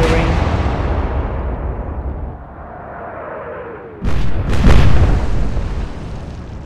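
Warship guns firing in the naval video game Atlantic Fleet: a deep rumbling roar trails off, then two sharp, heavy booms land close together, loud and without talk.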